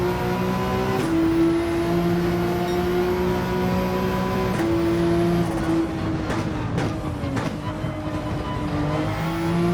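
A race car in the Gran Turismo video game on the Sardinia circuit, its steady engine drone shifting pitch as the gears change, loud and continuous throughout.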